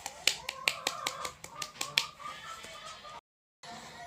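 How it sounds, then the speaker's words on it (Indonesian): Bright, sharp claps in a quick, slightly uneven series of about eight, close and isolated in a quiet room, fading into soft background noise before a brief cut to silence. "Mari kita berikan tepuk tangan untuk kita semua."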